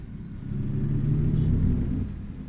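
A truck engine in American Truck Simulator climbs through the gears, a deep rumbling drone that swells, holds steady, then eases off toward the end.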